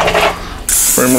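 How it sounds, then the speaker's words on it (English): Olive oil spray hissing in a short burst over sweet potato fries in an air fryer basket, loud and close amid light clatter. "Spray them up with a little olive oil spray."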